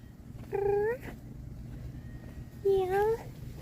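A cat meows twice, close and clear, with a short pause between the rising cries, over a low background rumble.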